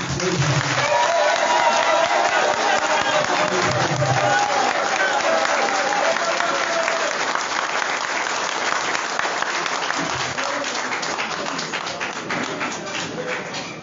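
A large audience at a political tribute to Mamadou Yacouba Mota bursts into loud, sustained applause that fills the space and fades slightly toward the end.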